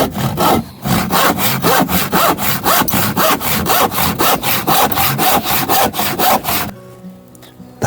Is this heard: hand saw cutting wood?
yes